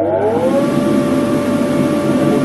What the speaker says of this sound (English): So we'll turn it on, turn on the blower.